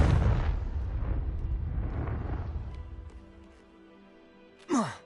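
A Confringo blast spell from the Hogwarts Legacy video game goes off as a broad, rumbling explosion that fades out over a few seconds, then a short sharp burst cracks near the end.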